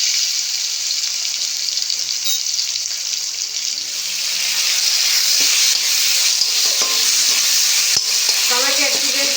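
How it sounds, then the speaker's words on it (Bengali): Tomatoes sizzle steadily in a hot pan as a spatula stirs them, a continuous close frying hiss with soft scraping strokes and no voices. "টমেটো একটু বেশ ভালো করে ভেজে নিয়েছি।"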